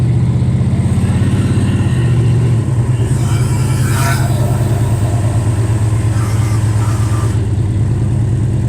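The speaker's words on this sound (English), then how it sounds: "There's a rattle that comes from underneath this thing. I'm pretty sure it's exhaust." A Dodge Dart with a full exhaust idles close by, its engine a steady low rumble with a rattle from underneath, with no talking.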